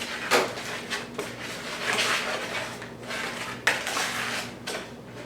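Garlic, black pepper, thyme and oregano being mixed together in a bowl for fried chicken, with repeated clinks and scrapes of a utensil against the dish, a few sharper knocks standing out amid steady close stirring.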